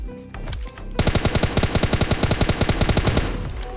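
Rapid automatic gunfire from a PUBG-style battle royale game rattles off in a loud, close burst of about twenty evenly spaced shots, preceded by a few scattered softer sounds.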